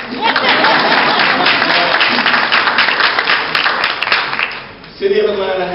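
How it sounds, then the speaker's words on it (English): An audience at an Atlanta political mixer claps loudly and steadily for several seconds, the clapping dying away as a voice begins speaking near the end. "y'all can clap for that."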